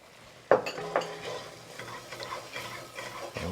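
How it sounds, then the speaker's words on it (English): Chopped celery and onions being stirred as they soften in a pot for shrimp and sausage gumbo, with a sharp spoon knock, then soft repeated scraping and a gentle sizzle underneath, close and moderately quiet. "But we just want to cook and stir"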